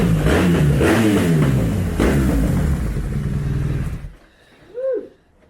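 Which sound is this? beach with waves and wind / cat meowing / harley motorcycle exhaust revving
harley motorcycle exhaust revving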